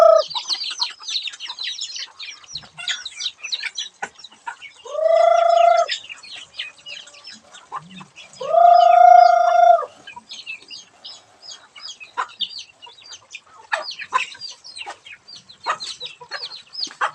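Chickens, wet from the rain, cluck and chirp in a steady busy chatter close by, broken by two longer, louder drawn-out calls.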